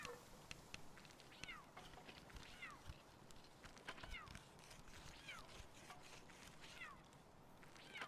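A cat creature in the video game Palworld meows repeatedly in short, chirpy calls over a busy bed of game noise and clip-clopping footsteps, fairly faint.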